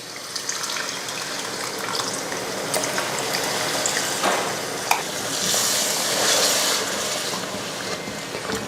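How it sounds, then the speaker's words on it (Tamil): Tamarind water poured into a sizzling anchovy curry in a pan, giving a steady loud frying hiss with liquid splashing and stirring throughout, no talking. "புளி ஊற்றிடலாம்"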